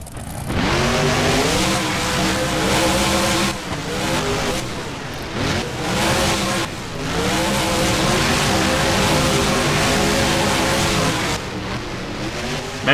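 Monster trucks Max D and Captain's Curse race in a BeamNG stadium game, engines roaring loudly and continuously with revving swells and short dips as they corner wide.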